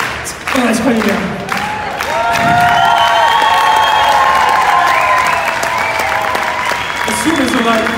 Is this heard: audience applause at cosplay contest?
yes